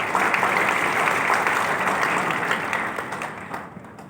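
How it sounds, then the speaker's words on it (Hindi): A crowd claps steadily in a dense wash of applause that fades slightly toward the end. "जोरदार तालियां सबके लिए।"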